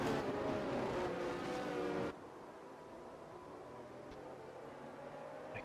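Formula 1 cars in the F1 2022 video game at Imola: a faint, high engine whine roars briefly, then drops off abruptly and leaves a quieter, distant hum of cars.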